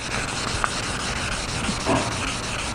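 Abrasive sanding rubs across an aluminum Jaguar E-Type bonnet to remove a spot, a close, steady gritty scrape with slight pulses in the stroke.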